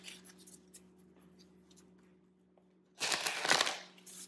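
Tarot cards being handled and drawn, with quiet soft rustling at first, then a loud burst of riffle-shuffling and card slapping for the last second and a half.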